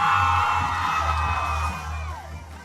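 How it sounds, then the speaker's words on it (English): A crowd at a rural Pride festival whoops and cheers for drag performers, a sustained mass of voices with shrill yells on top that fades over a couple of seconds. "The drag artists performed for a cheering crowd"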